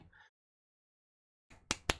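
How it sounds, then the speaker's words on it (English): A faint golf clap: two soft, quick hand claps come after a stretch of silence, polite and close. "Golf clap, sir. Golf clap."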